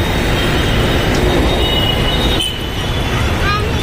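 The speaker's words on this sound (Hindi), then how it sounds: "Finally we have reached metro station." Busy Mumbai metro station ambience with steady loud traffic and train rumble, plus a few high squeals near the end; the noise is continuous and close, with voices faintly mixed in.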